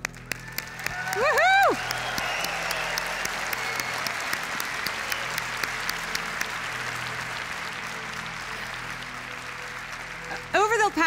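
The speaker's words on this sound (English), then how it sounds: "please join me in a round of applause" An audience at the Nasdaq market opening event in Helsinki breaks into sustained, dense applause with a loud whoop of cheering near the start and another burst of cheers at the end.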